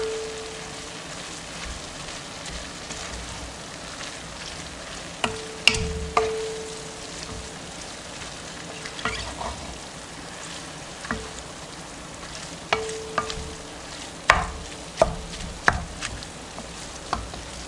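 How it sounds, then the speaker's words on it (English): Onion mixture stirred in a Dutch oven, a steady soft sizzling hiss with intermittent scrapes and clanks of a utensil against the pot, no talking. "I'm just going to mix it all up."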